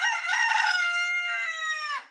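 A rooster crows once, loud and close, in one long sustained cock-a-doodle-doo that falls away at the end, with no voices or other sounds around it.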